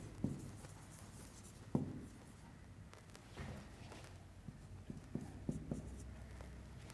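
Handwriting during an English grammar lesson: faint scratching pen strokes with a few soft taps, heard alone in a quiet room.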